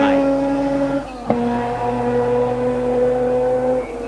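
Rally car with a 300 horsepower 13B peripheral port carbureted rotary engine at a forest rallysprint, holding a steady buzzing drone with a brief sharp blip partway through, moderately near.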